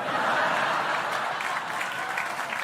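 An audience at a stand-up comedy show claps in dense, steady applause with a few faint chuckles mixed in, loud and continuous throughout.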